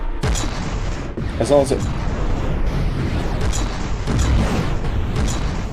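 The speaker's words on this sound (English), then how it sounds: "we just had an explosion on the..." Explosions and booming weapon fire from a naval battle video game, the Nineveh and other ships firing, a loud burst near the start among dense rumbling blasts, with someone talking over it.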